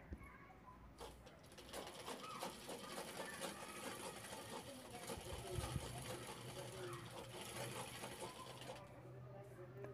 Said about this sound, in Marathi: आता आपल्याला ही बॅग उलटवून घ्यायची आहे आणि तिन्ही बाजू शिवून घ्यायच्या आहेत।